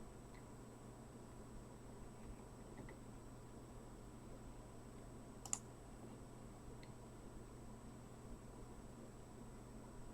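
A single sharp computer mouse click sounds once midway through an otherwise quiet stretch, isolated against a faint steady hum of room and fan noise.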